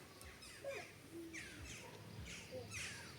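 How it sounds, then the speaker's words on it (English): Several birds chirp and call across a holiday park, short bright tweets and whistles arriving every second or so at moderate distance over a steady outdoor hum. "Can hear all the other birds."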